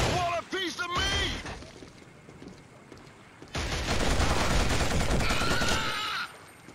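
Bursts of gunfire from the Killzone video game, heavy rapid shots in two stretches separated by a quieter gap, with shouted voices at the start.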